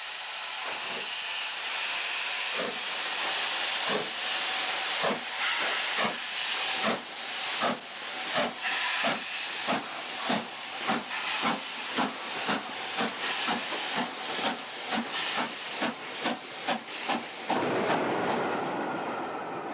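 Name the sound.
steam locomotive Duchess of Atholl pulling train away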